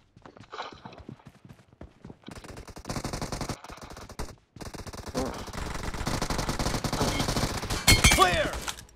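Automatic gunfire crackles in a BGMI team deathmatch, rapid bursts of shots layered with game sounds and footsteps, growing louder and denser toward the end.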